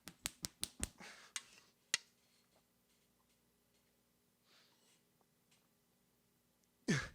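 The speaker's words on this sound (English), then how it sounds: "this female broette gets 6 finger snaps" Six crisp finger snaps come close together, one after another, and then a further snap follows. Quiet stretches come next, and at the end there is a loud burst.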